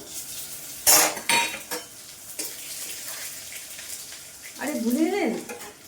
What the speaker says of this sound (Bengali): কড়াইয়ে তেল বসিয়ে দিয়েছি তেল গরম হয়ে গেছে তেজপাতা পাঁচ ফোড়ন শুকনো লঙ্কা দেবো